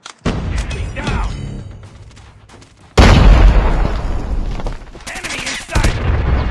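Call of Duty Mobile combat: bursts of gunfire, then a sudden loud grenade blast partway through followed by more shooting, with in-game voice callouts over the action.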